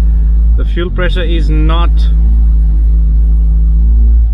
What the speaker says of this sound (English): And now I'm gonna try to rev it.